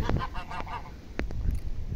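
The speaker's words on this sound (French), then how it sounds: "Et là il y a mes oies grises derrière, elles sont dans le verger" Greylag geese honk in an orchard, several loud nasal calls breaking out in quick bursts over a steady outdoor background, nearby and without talk.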